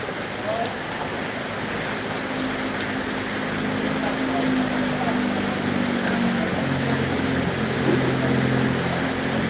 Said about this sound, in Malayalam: മഴ കുറവായിരുന്നു മഴ ഉണ്ടായിരുന്നില്ല വീണ്ടും തുടങ്ങി